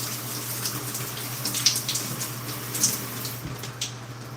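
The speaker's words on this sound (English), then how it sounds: "I'm going to rinse." Water runs steadily from a tap or shower while hair is rinsed after applying curl cream, a continuous broadband splashing hiss with a few brief louder gushes and no talk.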